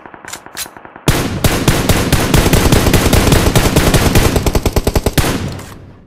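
Rapid automatic gunfire in a multiplayer shooter video game: a few scattered shots, then a long sustained loud burst of fast repeated rounds that breaks into separate shots near the end, with no talking.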